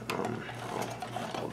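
A Kenmore cam sewing machine runs steadily with a fast, even mechanical whir and needle chatter close by, moderately quiet, with no clear talking over it.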